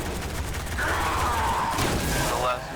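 The Golden Gun super fires in the video game Destiny, loud rapid bursts and booming blasts over a dense, continuous game soundscape.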